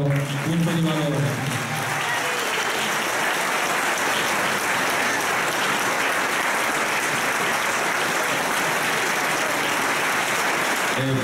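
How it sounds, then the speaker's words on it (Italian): Audience in a parish church applauds the Punto di Valore orchestra and choir at a Christmas concert in Termoli, sustained loud clapping throughout after a brief spoken voice at the start. "Vorrei ancora un applauso per l'orchestra e il coro Punto di Valore."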